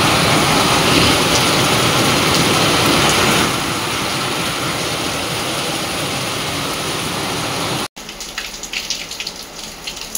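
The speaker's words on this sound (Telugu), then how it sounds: "బాగా పడుతుందండి వాన." Loud, steady broadband rush of heavy rain pours continuously, easing slightly midway, then a brief cut before the downpour continues with scattered patters.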